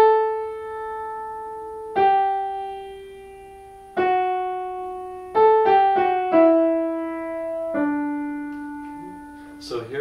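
A single melodic line from a Bach-style invertible counterpoint piece, with sustained notes that start cleanly and decay slowly, separated by short quick passing notes, played alone and close.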